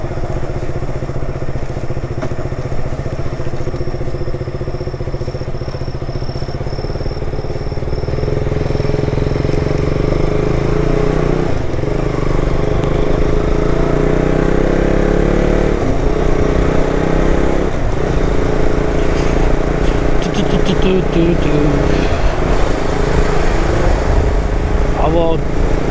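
A motorbike ridden on a road in Korea on the way to university in early winter gives a steady engine drone mixed with wind noise, with a voice talking over it at times.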